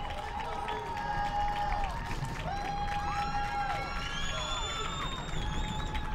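A crowd at a Division I high school soccer championship game in Houston cheers and whoops over a continuous roar, with whistles and shrill calls rising above the noise.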